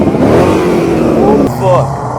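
Car engine revving loudly at an outdoor car meet by a river, a sustained roar with a sharp rise in pitch midway, close by, while people talk and shout excitedly over it.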